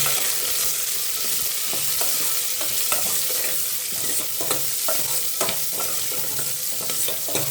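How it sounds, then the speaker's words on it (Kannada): Small onions frying in oil in a pan for a simple sambar, with a continuous close sizzle and scattered clinks and scrapes of stirring throughout. "ಇದನ್ನು ಹಾಕೋಣ. ಫ್ರೈ ಮಾಡ್ಕೊಳ್ಳೋಣ ಇದನ್ನ."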